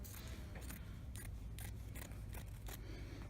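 Scissors snip through fabric during dress draping, about eight crisp, evenly spaced cuts heard close up over a steady low background hum.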